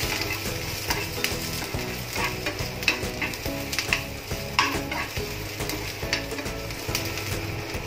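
Chana dal with garlic and ginger pieces frying in a little oil in a pan, a steady close sizzle with light crackling pops and occasional scraping stirs throughout.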